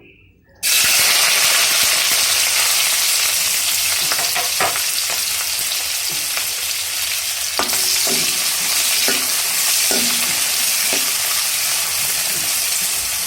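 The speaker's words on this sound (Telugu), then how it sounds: "ఆయిల్ కాగింది ఇప్పుడు అందులోకి రెండు ఉల్లిపాయలు నాలుగు పచ్చిమిర్చి వేస్తున్నాను" Onions and green chillies sizzle as they drop into hot oil in a kadai, a sudden loud burst of frying that keeps hissing steadily, with scattered clinks of a ladle stirring through it.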